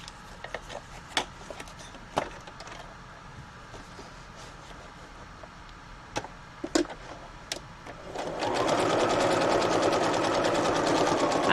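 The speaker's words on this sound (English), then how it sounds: "I like to sew across the top of this envelope because not only does it look nice, but it also makes that opening stronger" Sewing machine stitching across the top of an envelope pouch made with stamped tracing paper, starting after a few scattered clicks and handling noises and then running as a steady, fast, close mechanical whir to the end.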